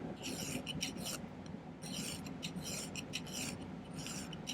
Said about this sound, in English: Just going to file the end flat here.